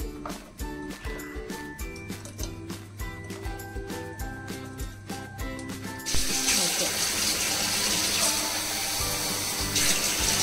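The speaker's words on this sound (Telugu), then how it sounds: "జార్లో వేసాక కొన్ని వాటర్ తీసేసుకోవాలి." Music plays at first, then a steady stream of water pours into a blender jar holding chopped celery pieces, a continuous hissing splash under the fading music.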